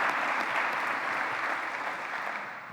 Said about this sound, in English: So how about a round of applause for those people